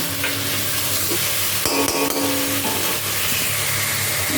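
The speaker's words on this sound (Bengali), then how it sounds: "এটাকে এবার ঢাকা চাপা দিয়ে মশলাটাকে কষিয়ে নেব" Spice paste (masala) sautéing in a pan makes a loud, continuous sizzle and hiss, with a few stirring scrapes and a clink of utensils near the middle.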